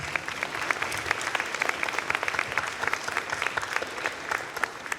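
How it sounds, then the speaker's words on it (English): A symposium crowd applauds a high school principal and staff, steady mid-level clapping with sharper individual claps popping out over the patter for several seconds. "let's give them a round of applause"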